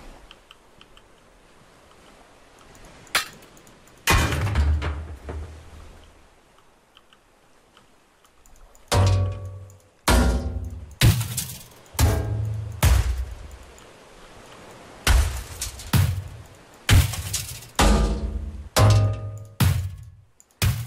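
Repeated heavy smashing impacts in the game Ship Graveyard Simulator, about a dozen sharp crunching hits in uneven bursts after a quiet start, each blow followed by brief rattling debris.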